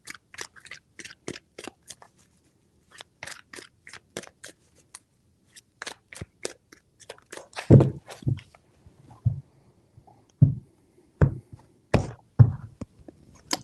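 A deck of tarot cards is shuffled up close: crisp riffles and sharp card snaps in scattered bursts, a few louder thumps as the deck is squared. No talking.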